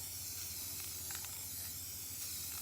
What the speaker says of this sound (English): So we'll get it nice and spray painted